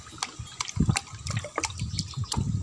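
Water being stirred and sloshed in a container while a spray mix is prepared for mango trees, with close, irregular splashes and drips coming in quick bursts.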